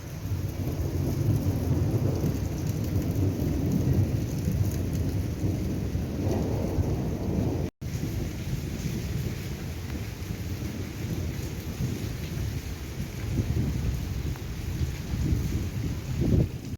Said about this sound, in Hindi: काफ़ी तूफानी बारिश रही है